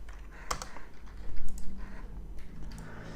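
Keystrokes on a computer keyboard while typing a button name into web design software, a quiet run of close, irregular clicks with a few louder taps, no talking.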